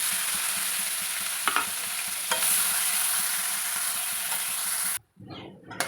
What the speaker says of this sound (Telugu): ఉల్లిపాయ మంచిగా వేగింది కదా